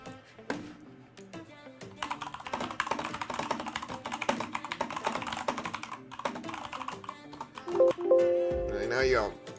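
Fast typing on a computer keyboard, a rapid, close stream of key clacks with a short pause. A voice speaks briefly near the end, over a faint background tone.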